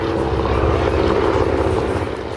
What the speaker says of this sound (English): It's actually a Beech 18. This was the Learjet before World War II.